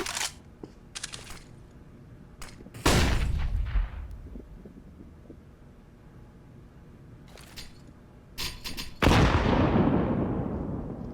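Bursts of gunfire from the video game Counter-Strike: Global Offensive, heard as several short rattling volleys with quiet stretches between them, followed by two loud, sharp shots that each ring out and decay.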